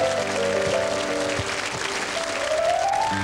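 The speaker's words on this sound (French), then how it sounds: "Sous vos applaudissements, mesdames et messieurs." Steady applause from a television studio audience fills the room, a dense wash of clapping with faint tonal music lingering underneath.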